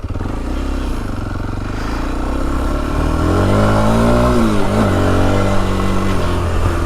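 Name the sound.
Kawasaki KLX 230 motorcycle engine riding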